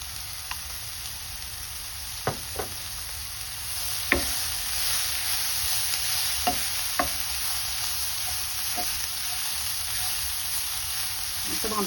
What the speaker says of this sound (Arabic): بشوحها عشان الميه اللي فيها لانها فروزن